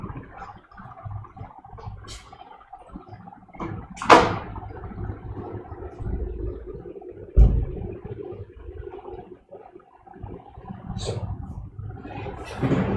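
A door is pulled shut indoors to block background noise, giving a couple of sharp thumps amid faint rustling and room noise.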